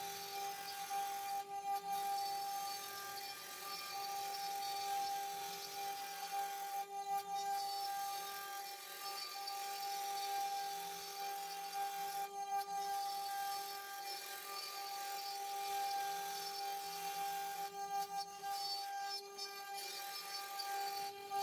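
CNC router spindle with its bit easing down into material in zigzag ramping passes, a steady high whine with sustained tones and periodic cutting bursts recurring every few seconds, close and continuous.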